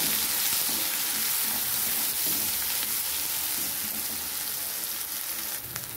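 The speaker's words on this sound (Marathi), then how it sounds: "तो पण आपल्याला छान तेलावर परतून द्यायचा आहे मस्त। छान हलवून घ्यायचं एकदा।" Ridge gourd sautés in hot oil while it is stirred, producing a loud, dense, continuous sizzle with soft shuffling stir strokes throughout.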